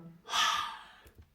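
One heavy breath, a quick loud exhale or gasp rising and fading over about a second, close to the mic, with faint background noise.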